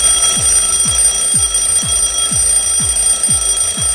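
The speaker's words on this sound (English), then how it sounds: "We wake up in the morning by hearing alarm sound." A loud alarm clock rings in a steady pulsing pattern, about eight evenly spaced buzzing beeps over a high electronic tone, close and alone.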